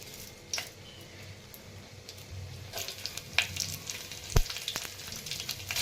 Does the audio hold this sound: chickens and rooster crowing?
no